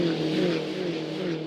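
A pack of turbocharged four-cylinder Mini Challenge race cars roars at Symmons Plains, the engines holding a steady, loud drone with a low throbbing note throughout, close and without any talk.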